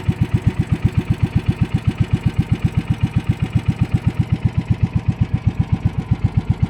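A small boat engine chugs in a fast, even rhythm of loud thumping pulses, close by and steady throughout.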